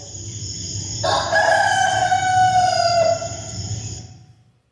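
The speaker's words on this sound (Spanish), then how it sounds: "y cantó el gallo." A rooster crows loudly and close, one long drawn-out call over a low background hum.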